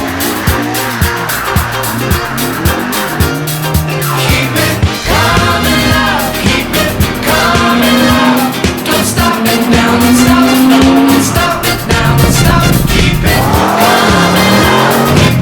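A car driving off with a loud, continuous mix of revving engine and squealing, skidding tires that rises and falls in pitch throughout.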